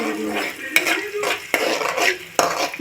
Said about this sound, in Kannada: ಈರುಳ್ಳಿ ಹಾಕಿ ಫ್ರೈ ಮಾಡೋಣ